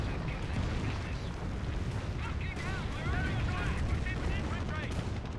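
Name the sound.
Calliope rocket barrage in Company of Heroes video game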